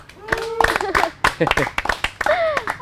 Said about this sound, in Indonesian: Boleh tepuk tangan lagi dong.